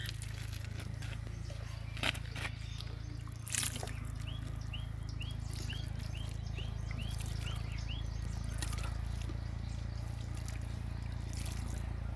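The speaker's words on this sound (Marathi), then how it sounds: "त्याच्यावरून थोडंसं पाणी टाकते म्हणजे माती थोडी ओली होईल" Water trickles and dribbles steadily onto soil, wetting it, over a constant low hum, with a few soft knocks and faint chirps in the background.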